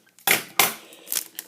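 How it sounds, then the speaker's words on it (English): Scissors snipping open an Upper Deck hockey card pack, two sharp close cuts followed by a softer rustle of foil wrapper. "Oh, I have to use my scissors on this one too."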